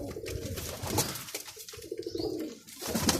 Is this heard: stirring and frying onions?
no